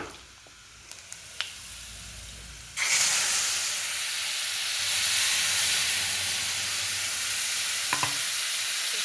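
Tomato and cashew paste hits hot oil in a pan, bursting into loud sizzling and hissing after a few quiet clicks, then frying steadily with stirring sounds close by.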